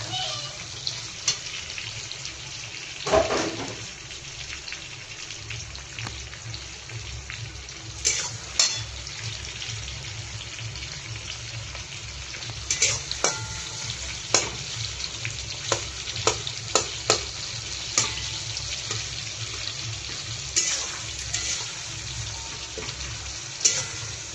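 Fish pieces fry in a little oil for a mustard-style curry, giving a steady crackling sizzle throughout. Scattered clicks and taps of a spatula against the pan sit on top, close and moderately quiet, with no one speaking.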